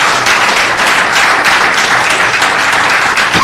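A burst of audience applause fills a committee hearing room on housing, community and economic development, dense steady clapping from many hands, loud and close, lasting a few seconds with no talk over it.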